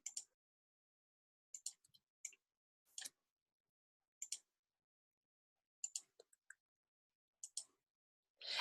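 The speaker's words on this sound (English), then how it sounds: "Kind of clicking through my selection." Mouse clicks while selecting in Photoshop on a desktop computer: sparse, crisp, close-up clicks arriving singly and in quick pairs with silent gaps between them, and no talking.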